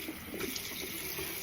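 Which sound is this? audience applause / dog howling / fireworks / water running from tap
water running from tap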